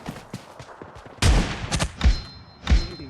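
Shotgun blasts in a mobile shooter game during a 1v1 match, a few loud booming shots in quick succession after quieter clicks and thumps, with no talking.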